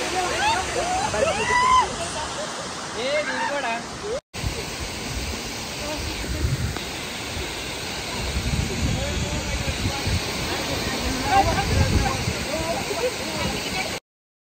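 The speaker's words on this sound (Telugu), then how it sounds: "ఇక్కడ నుంచి వాటర్ వస్తుంది, అలా కింద నుంచి వెళ్తుంది ఫ్లో" Steady rushing roar of Tiger Waterfall in Lonavala, loud and continuous, with people talking faintly underneath and a brief cut near the start.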